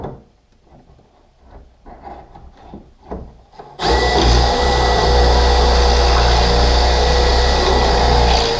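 After a few quiet wooden knocks and handling sounds, a power drill fitted with a brand new bit whirs loudly and steadily as it bores pocket holes into non-solid wood for a custom entertainment center.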